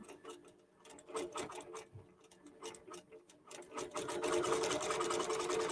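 A QBOT computerized quilting machine stitching around an applique on a quilt, rhythmic needle ticking that starts in short bursts and settles into fast continuous stitching, growing louder near the end.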